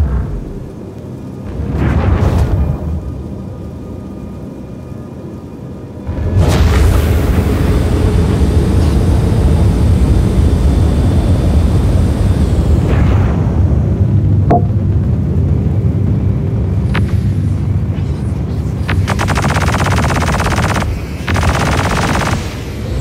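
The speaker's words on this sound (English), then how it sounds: "Boom, boom, boom, boom. Have some missiles, fam." Missiles exploding in the space combat game Star Citizen produce loud, sustained booming blasts with a long rumbling roar after an opening burst, followed by a few sharper cracks near the end, with no voices.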